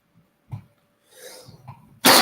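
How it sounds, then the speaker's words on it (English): A man lets out a small cough, then a short throaty rasp, and finishes with a loud, harsh burst right at the end, all close up with no talk around it. "This cough, man."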